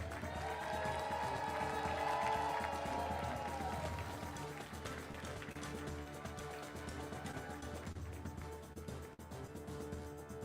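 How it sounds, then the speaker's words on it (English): Crowd applause at a national championship award moment, a dense mass of clapping mixed with loud music and some crowd noise, steady and full throughout. "Let's keep that applause and energy up."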